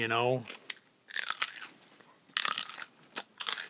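A hominin with massive molars and big chewing muscles crunches and bites, giving several loud, sharp crunches in bursts, close up, after a short vocal tone at the start.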